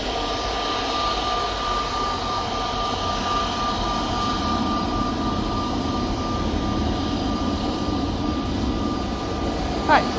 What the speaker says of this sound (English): EasyJet coming over now. It's an A320neo for Antalya.